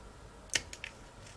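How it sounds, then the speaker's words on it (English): Ordinary scissors snip through the thin sheet metal of an EST-534T-10 electric stove/heater, giving one sharp close cut followed by two fainter clicks in a quiet room. "this happens to be just thin enough metal that I can just cut it with a scissors"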